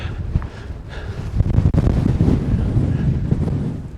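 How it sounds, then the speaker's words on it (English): Strong wind gusting across the exposed summit of Whinlatter top, a breezy Lake District fell, roaring and buffeting the microphone in a steady low rumble with a sharp thump partway through, no speech. "Even very breezy Whinlatter top."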